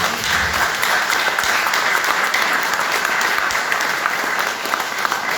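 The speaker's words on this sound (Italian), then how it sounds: "vorrei che gli faceste davvero un applauso" Sustained, dense audience applause fills a hall during a healthcare conference at the Ateneo Veneto in Venice, a continuous even roar of many hands clapping with no talk over it.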